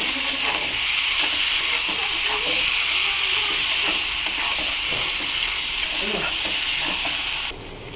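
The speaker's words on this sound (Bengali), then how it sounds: "দিয়ে দিলাম বন্ধুরা, গ্যাসটা আস্তে দেবো, এটাকে নাড়াচাড়া করবো।" A paste of mustard, green chili and ginger fries in a pan over low gas while being stirred. It gives a loud, continuous sizzle and hiss with scraping stirs throughout, then drops away slightly at the very end.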